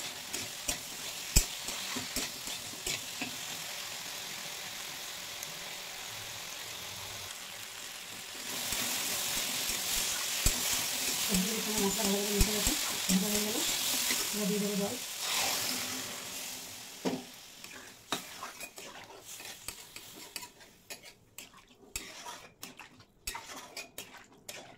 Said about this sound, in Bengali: সোয়াবিন, সবজির সঙ্গে মশলা আবার একটু ভালোভাবে ভেজে নেব।